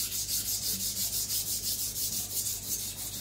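Quick, even scraping strokes of a Zwilling Five Star compact chef knife being sharpened and thinned on a whetstone, repeating in a steady back-and-forth rhythm, close and clear with no talking.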